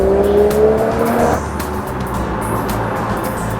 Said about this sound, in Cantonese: 成副引擎嗰個聲咧係大好多嘅，同埋係真係似翻 AMG 嗰啲 row 聲